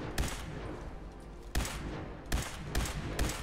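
Gun hipfire in Fallout 4, with about five sharp, loud shots at uneven intervals over a steady background rumble of combat.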